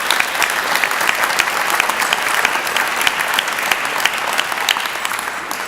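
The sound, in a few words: applause for ward councillor at temple ceremony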